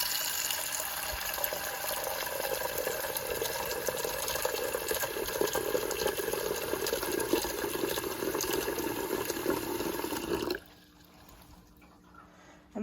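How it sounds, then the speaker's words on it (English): Tap water running steadily into a pan at a kitchen sink, a close, even rushing stream that stops abruptly near the end, leaving quiet room tone. "I'm going to fill it up with a little bit of water."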